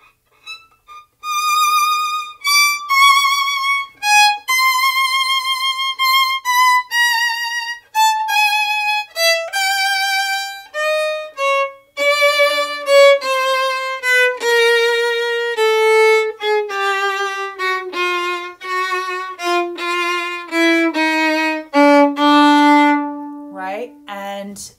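A solo violin plays the closing chromatic section of a Prokofiev solo violin sonata, a steady run of clear bowed notes stepping downward over about twenty-five seconds and ending on a low sustained note, alone and close.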